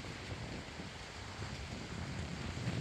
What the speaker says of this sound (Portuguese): Olha, o vento tá girando de lá pra cá, viu?